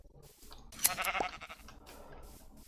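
Sheep bleating in the Minecraft modpack FTB Interactions, one short wavering bleat that rises out of steady background ambience, moderately close.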